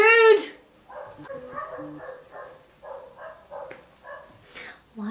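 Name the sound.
dogs barking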